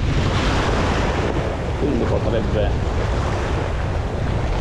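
Sea surf breaks and washes along the shore during light spinning fishing, a steady roar mixed with wind buffeting the microphone, while someone briefly speaks over it.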